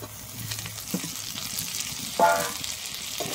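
Steady sizzling of tomato frying in a pan with ginger and garlic, with a brief louder hiss partway through as something is stirred or added.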